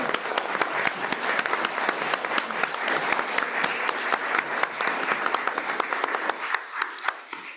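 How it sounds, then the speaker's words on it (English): Sustained audience applause at a school board of education meeting as principals and assistant principals stand, dense steady clapping filling the room for several seconds before thinning out near the end. "give them a round of applause"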